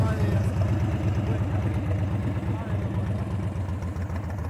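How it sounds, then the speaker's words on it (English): A motorcycle engine idles too low with the throttle barely open, a steady, loud, shaky rumble close by that sounds near stalling, with someone talking over it. "It's too low. It's going to stall."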